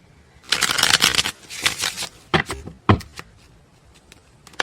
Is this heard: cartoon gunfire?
no